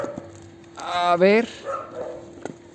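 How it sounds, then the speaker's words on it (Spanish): A dog lets out a short burst of barks and yips, fairly close, with a faint steady hum underneath. "hay un perro ladrando"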